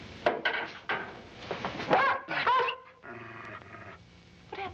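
A dog in a 1953 foggy London crime drama snarls and yelps in a short burst of sharp, loud cries amid clattering scene noise, then quieter rustling follows.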